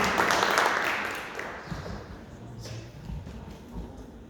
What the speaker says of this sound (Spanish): un fuerte aplauso al Señor, mis hermanos, fuerte, fuerte